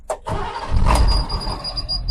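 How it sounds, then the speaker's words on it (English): A diesel bus engine cranks and fires after the glow plug wait, a short starter whir followed by a loud, rough low rumble settling toward idle, close by inside the vehicle. "Once that wait to start button goes off, then you can then start the engine."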